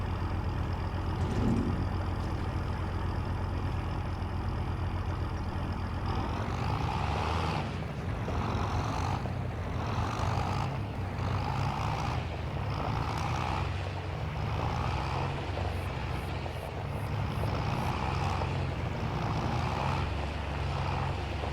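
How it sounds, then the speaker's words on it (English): Tractor engine idling in the Farming Simulator 25 video game, a steady low drone that runs the whole time with rhythmic throttle pulses swelling and fading in the second half. "Boy, this tractor sounds so much better."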